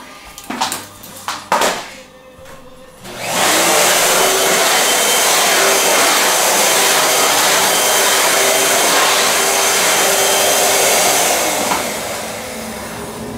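A Bissell Magic Vac vacuum cleaner runs across a floor, starting with a few clicks and bumps, then a loud, steady whirring roar that holds for about ten seconds and eases slightly near the end.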